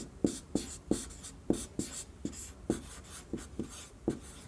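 Pen scratching on paper during a history class, ten or so quick strokes in a steady rhythm, close and fairly quiet, with no talking.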